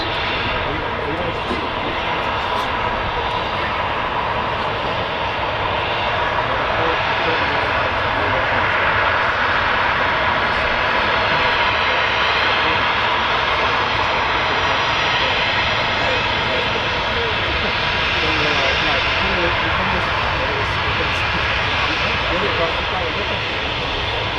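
Emirates airliner being pushed back by a tug at Manchester Airport, its engines giving a loud, steady broadband roar that holds without a break throughout, close to the listener.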